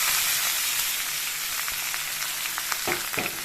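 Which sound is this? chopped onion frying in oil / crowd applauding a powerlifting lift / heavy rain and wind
chopped onion frying in oil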